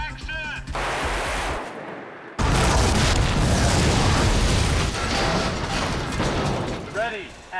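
A special effects explosion erupts on a miniature film set, a sudden loud blast that floods into a sustained roaring rumble for several seconds, preceded by a brief lull and faint chatter and noise.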